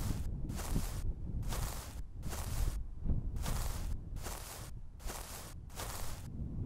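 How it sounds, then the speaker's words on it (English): Loud, heavy footsteps from an animated story, about eight evenly spaced thudding steps close to the listener over a steady low rumble. "Suddenly heard loud footsteps,"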